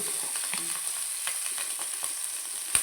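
Chopped tomato, green chillies, onion and ginger frying in a pan, a steady close sizzle with a few light scrapes and clicks of stirring.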